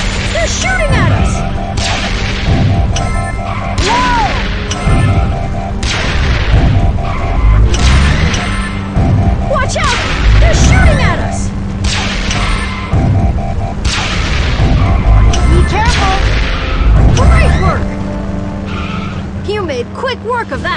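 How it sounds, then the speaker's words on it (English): Cartoon action scene from Transformers Rescue Bots with repeated blasts, booms and skidding vehicles layered over a continuous music bed, loud and busy throughout, with voices talking over the action. "They're shooting at us!"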